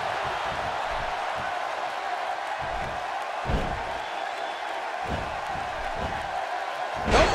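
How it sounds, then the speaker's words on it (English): A virtual wrestling arena crowd roars in WWE 2K16 during a match, a dense continuous crowd murmur with scattered thuds and a brief louder swell near the end. "by the sound of this crowd, I think they're getting what they wanted."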